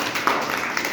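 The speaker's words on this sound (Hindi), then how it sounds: "और मुकेश के लिए भी ताली बजा दो भाई" A class of young children claps for a classmate, producing a short, quick patter of small hands that is moderately loud and close.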